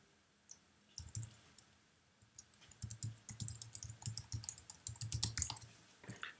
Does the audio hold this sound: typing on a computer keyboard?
yes